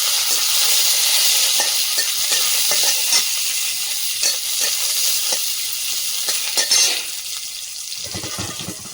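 Chopped garlic and dried red chillies frying in hot oil in a pan for a greens dish, a loud, steady sizzle with scattered spatula scrapes and clicks, easing near the end, and no talk.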